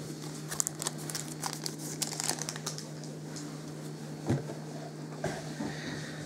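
A hockey card pack wrapper, Upper Deck Series 2 from 2018-19, crinkles and tears close by in a quiet room, with irregular bursts of rustling and a couple of sharper snaps.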